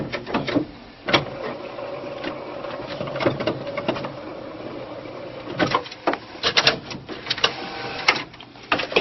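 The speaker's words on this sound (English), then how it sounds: "You can see the way the hose moves back and forth with that chain." A hose on a chain-driven mechanism glides back and forth, giving a soft steady motor hum broken by repeated clicks and rattles at irregular intervals, fairly close and with no speech.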